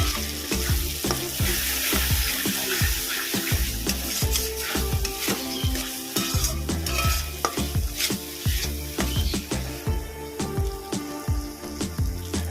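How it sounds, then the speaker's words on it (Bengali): Raisins being stirred and fried in oil with spice paste for a katla fish curry, a steady close sizzle with quick rhythmic spatula scrapes against the pan throughout, no voices. "আমি এখানে দেব কিশমিশ এটা এটাকেও ভালো করে কষিয়ে নেব"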